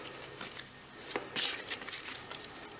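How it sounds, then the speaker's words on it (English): Large tarot cards being shuffled by hand, soft papery riffles and slides in quick irregular bursts, faint and close, with no talk. "They're a little bit more difficult to shuffle because they are that little bit bigger"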